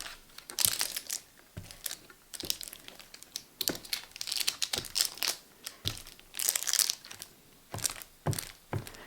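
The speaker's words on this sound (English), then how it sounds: "And then I'm going to put my piece of parchment on the bottom." Parchment paper is crinkled and pressed into the bottom of a buttered springform cake pan. Close, crisp rustling and crackling continues in irregular bursts throughout.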